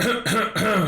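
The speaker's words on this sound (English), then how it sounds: "you're coughing the coronas all over me" A person coughs or clears their throat in two or three rough bursts during a podcast recording, close to the microphone and moderately loud, with brief pauses between them.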